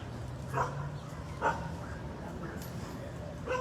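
A dog barks a few times at a distance, short sharp yips spaced about a second apart over a low background murmur.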